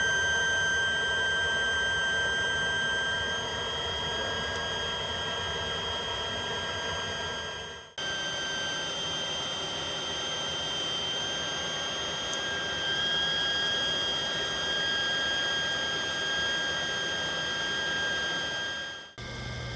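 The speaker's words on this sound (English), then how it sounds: "Okay, so we got this Aqua Hot running." An Aqua Hot heater's burner motor runs steadily at close range during a fuel pressure test, a constant whine with high tonal components that dips briefly at about eight seconds and again near the end.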